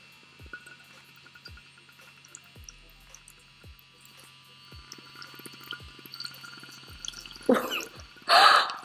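An adult vibrating toy runs at its strongest third setting in water: faint drips and a soft hum at first, then two short, loud, buzzing splashy bursts near the end.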